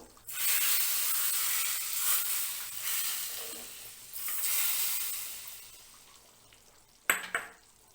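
Hot oil mixed with chili powder poured over vathal kuzhambu, a tamarind curry, sets off a bright, steady sizzle that swells and fades in waves, ending with a sharp crackling burst.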